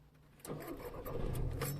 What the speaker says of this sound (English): Let's turn the engine on and see what happens.